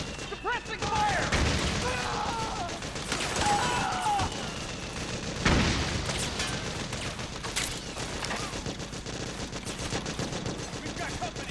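Gunfire from the video game Metal Gear Solid 4, sustained bursts of automatic fire with sharp louder shots and a crash, mixed with game music and shouted voices.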